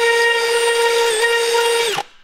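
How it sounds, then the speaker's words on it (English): A power drill bores holes in metal in a home workshop, a steady, loud, high whine held for about two seconds before the motor abruptly cuts off and spins down. "Now that I got the holes drilled,"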